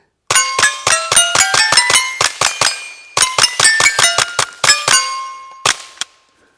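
A Fletcher 11/22 rifle fires quick strings of sharp shots at a steel plate 100 yards out, each crack followed by a bright metallic ring, in two fast volleys and then a few last shots.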